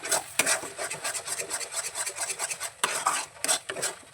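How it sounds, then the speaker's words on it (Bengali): Ginger and green chili paste stirred and scraped in a pan while cooking a green pea tikki, with steady rasping, rubbing strokes of a utensil against the metal, close and continuous with brief louder scrapes. "আদা আর কাঁচা লঙ্কার পেস্টটা দিয়ে দিলাম দিয়ে এটাকে ভালো করে আমি নাড়াচাড়া করে নেব"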